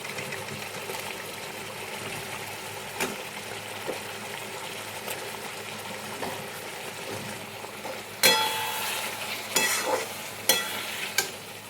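Spice paste and fried potatoes sauté in a wok for mutton-fat ghugni with kabuli chana, a steady close sizzle under scraping stirs, with louder clattering bursts of stirring near the end.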